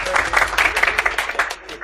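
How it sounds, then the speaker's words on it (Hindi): Brief burst of clapping from a classroom audience applauding a prize winner, dense and steady, with voices mixed in. "मूसा भाई के लिए तालियां।"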